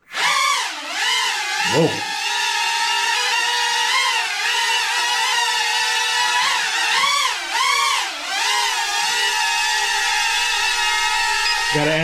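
Sharper Image Aero Boost toy drone flying under manual control, a loud steady rotor whine with wavering pitch as it speeds up and slows, close to the mic, with one brief exclaimed word over it.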